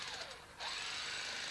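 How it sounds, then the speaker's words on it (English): An electric hammer digs into opal dirt in a mine at Lightning Ridge, starting abruptly and then running as a steady, close, rapid rattling drone. "The sound of an electric hammer digging into opal dirt."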